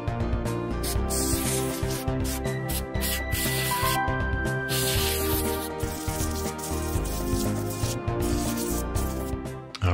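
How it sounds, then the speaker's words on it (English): Compressed air from a can duster blasts into a Macintosh floppy drive in loud, close bursts of hissing spray that stop and restart several times, with some rattling and rubbing between squirts. "I'm going to get my reliable air duster and give this thing a squirt, a blow, a get the air off it"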